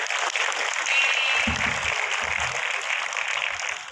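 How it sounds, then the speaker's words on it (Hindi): College audience at a kavi sammelan poetry recital giving loud applause, a continuous crackling wash of many clapping hands filling the hall, with low thumps from handling noise partway through. "एक बार इसके लिए आप सभी लोग जोरदार तालियां हो जाए।"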